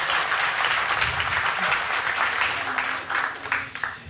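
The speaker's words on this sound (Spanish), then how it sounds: "un fuerte aplauso para ella, un fuerte aplauso" Loud audience applause fills a comedy podcast stage show, a steady dense wash of clapping with some voices and cheers mixed in, swelling slightly near the end.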